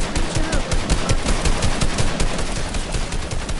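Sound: gunfire in a video game

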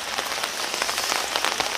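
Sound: rain falling

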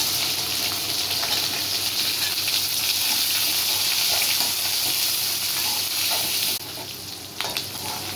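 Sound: small onions and garlic frying in oil

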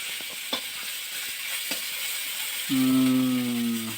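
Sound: fish frying in a pan

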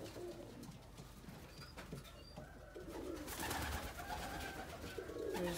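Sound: pigeons cooing in a loft

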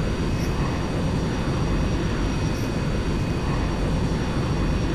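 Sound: Airbus A380 taxiing to the runway in a flight simulator game

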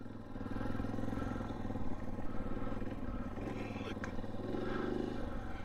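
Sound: KTM 500 EXC-F dirt bike riding

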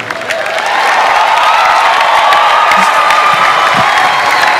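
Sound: audience applause and cheering for Pastor Matthew Ashimolowo

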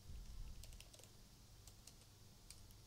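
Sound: typing code on a computer keyboard

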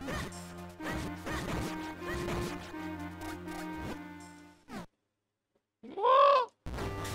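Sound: bird sound in the video game The Legend of Zelda: Minish Cap

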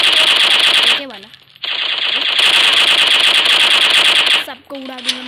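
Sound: M4 gun firing in a video game

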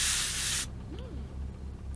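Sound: spray being used in VR zombie survival video game

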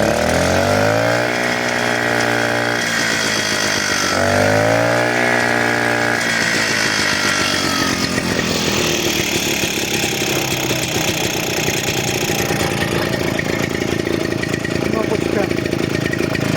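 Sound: generator engine running

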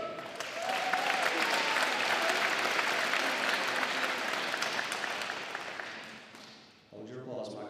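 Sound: audience applause at a high school concert

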